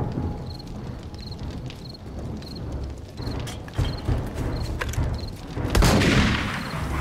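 Gunfire against a zombie horde in the survival game 7 Days to Die: a steady run of sharp shots and crackling impacts over a low rumble, swelling into a louder blast near the end.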